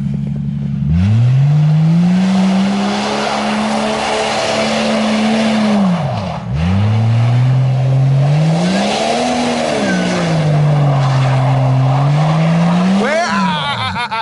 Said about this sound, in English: I'm gonna try to hit a handbrake 180.